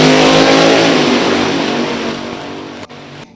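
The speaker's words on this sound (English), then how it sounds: "Jared spooling up the turbo on the diesel" A diesel drag truck at an NHRA drag strip builds revs as its turbo spools up, a loud, steady engine roar with harmonic whine that holds strong and then tapers off near the end, with no voices.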